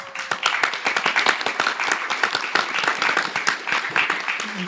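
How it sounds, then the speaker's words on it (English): A room of attendees at a university capstone presentation gives a steady round of applause for visiting high school students, crisp individual claps rapidly overlapping throughout, fairly close and loud, with no talk over it. "we can give them a round of applause"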